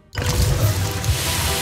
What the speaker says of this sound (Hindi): वो देखिए, पानी बाहर बह रहा है।